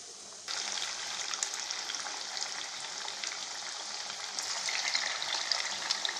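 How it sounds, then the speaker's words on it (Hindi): Moong dal pakoras deep-fry in hot oil, a dense, even bubbling sizzle that jumps in abruptly after half a second and carries on steadily up close, with no voices. "इसी तरह हम और पकौड़े को फ्राई कर लेंगे।"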